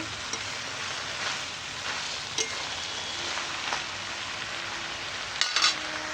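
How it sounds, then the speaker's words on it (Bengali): Cabbage and other vegetables sauté in hot oil with spices in a pan. A dense, continuous sizzle fills the clip, broken by a few soft stirring scrapes and clicks, with no voices. "এবার তেলের মশলার সঙ্গে এই আনাজগুলো কষাবো"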